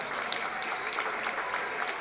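A room of people applauding Kiwanis Club members, a steady, fairly soft patter of many hands clapping across two seconds without a break.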